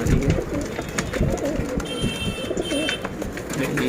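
Pigeons in a Mumbai breeding loft with nesting pairs and their young coo repeatedly, low throaty rolling calls close by, overlapping with soft rustling and faint background noise.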